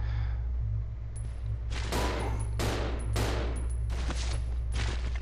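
Fire magnum rounds blast at zombies in Resident Evil Zero HD Remaster, with four or five sharp, loud gunshots about a second apart over a low steady industrial hum, with no speech.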